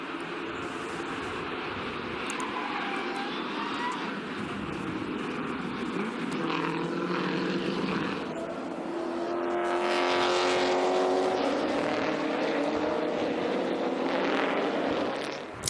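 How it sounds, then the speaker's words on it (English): Chevrolet Lumina V8 race cars pull away from the starting grid of race 1 in the Bahrain sunshine, a swelling chorus of engines that builds and sustains, heard from trackside at moderate distance. "starting grid for race 1, and away we go then. Under the Bahrain sunshine, the Lumina CSV Championship getting underway."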